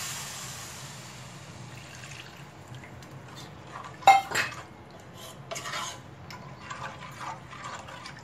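Milk poured into a pan over a butter and flour roux while making creamy wheat pasta, giving a soft liquid pour with a few clinks of utensil on pan, fairly quiet and close with no talking.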